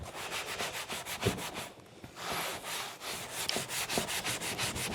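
A Jeep Mopar off-road floor mat is scrubbed with a brush in quick, regular back-and-forth strokes, close but fairly quiet, with a brief pause in the middle before the rhythmic rubbing resumes.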